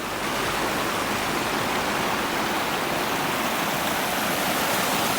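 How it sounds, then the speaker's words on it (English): Water pours steadily over an old curved mill weir on the River Ayr in Scotland, a loud, unbroken rushing roar with no pauses or other sounds. "The weir for the mill was curved to give it strength and lay upriver of the mill itself"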